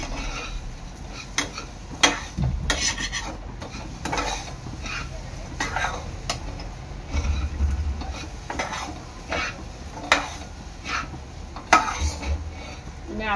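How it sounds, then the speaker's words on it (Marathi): A spoon stirs sugar into a coconut mixture in a pan, making repeated scraping and clinking strokes against the metal with a soft background sizzle, close and irregular. "आता ह्यामध्ये मी टाकणार आहे आपली साखर। साखर चांगली मिक्स करून घ्यायची आहे।"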